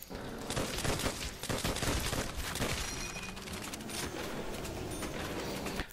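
Rapid gunfire in the zombie shooter game Zombie Realism, with dense bursts of shots and fusillades packed close together and loud throughout, along with chaotic game noise.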